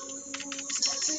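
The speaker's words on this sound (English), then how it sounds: "as you hear me ferociously killing my keyboard" Rapid, aggressive typing on a computer keyboard, close and continuous clattering keystrokes with no speech over them.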